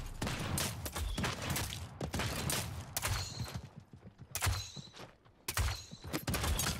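Bursts of gunfire in Realm Royale, several rapid rattling volleys with short quiet gaps between them, fairly close and punchy.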